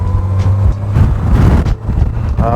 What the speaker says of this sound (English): The wind is coming.